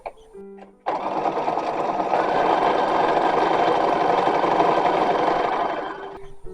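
Domestic sewing machine stitching down the flap of a 1920s-style chemise in one long, steady run of rapid whirring, close and loud, starting abruptly and easing off near the end.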